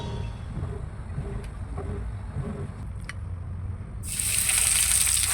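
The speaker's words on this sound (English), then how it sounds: "Next, I pour in enough oil to fry the fish." Cooking oil is poured into a heated frying pan for frying fish. After a few seconds of quiet background, a loud, steady hiss suddenly starts and continues to the end.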